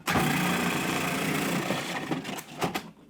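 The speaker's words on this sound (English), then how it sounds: "Put the top on your food processor, and now we're gonna shred up our russet potatoes" A food processor with a shredder attachment whirs loudly as unpeeled russet potatoes are fed through, a dense close mechanical roar that eases toward the end with a few clunks as it stops.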